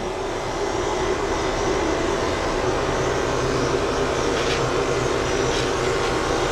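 A pet grooming hair vacuum runs nearby with a steady, loud motor drone and airy rush. The sound stays constant and uninterrupted throughout.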